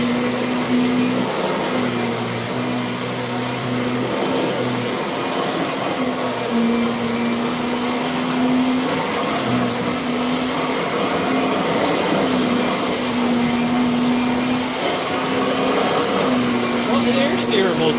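A Kirby vacuum cleaner set four clicks down runs on medium pile carpet with a loud, steady motor drone and whine that wavers slightly as it moves, while a voice talks faintly underneath.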